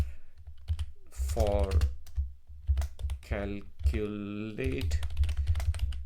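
Typing a prompt on a computer keyboard, with soft clicking keystrokes running throughout under intermittent close speech.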